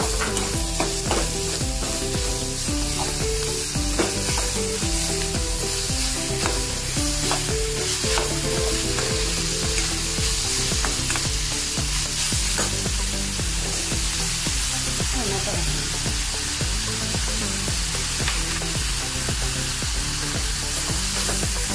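Sliced radish with turmeric frying in a hot pan for a Marathi mulyachi bhaji, a steady loud sizzle with repeated scraping stir strokes throughout, no voices.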